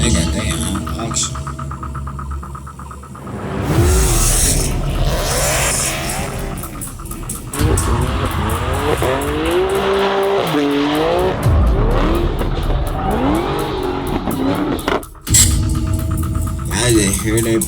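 An SRT car in a high-speed chase, its engine roaring and revving loudly with repeated tire squeals and skids, while voices talk over it.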